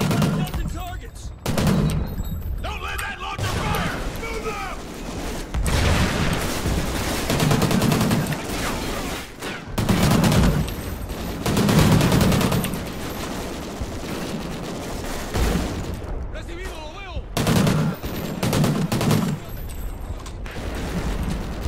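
Sustained gunfire and bursts of automatic fire from the Call of Duty Ghosts campaign, loud and continuous throughout with brief gaps, mechanical clanks and creaks mixed in, and occasional game voices beneath.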